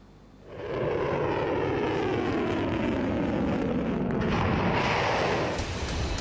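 Missiles and drones launched from Iran toward Israel, heard in news footage as a loud, sustained roaring rush that swells in after a quiet start and holds for several seconds.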